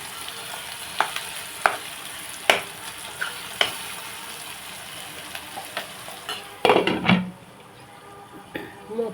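Tomatoes sizzle in a pan while a spoon stirs them, with sharp clinks against the pan over a steady frying hiss and a louder burst of scraping near the end.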